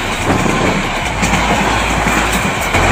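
A Bangladeshi train rolls past close by, with a loud, continuous rumble and rhythmic clatter of wheels on rail, steady for the whole stretch and with no voices.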